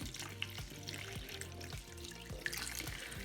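Water poured steadily into a flower pot to fill it while treating orchid roots, a soft, faint, continuous flow with a couple of small splashes.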